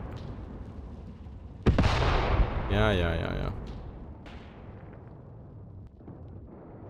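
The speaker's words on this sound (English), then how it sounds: "Big explosion." Explosions from the WWII strategy game Mius Front: a sudden loud blast bursts in, followed by rumbling booms and a further distant crack, with a voice speaking briefly over the battle noise.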